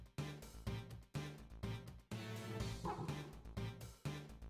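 A Pokémon pup cries while evolving in PokeMMO: a string of short, bright dog-like yips in a steady rhythmic pattern, loud and close, repeating about once a second.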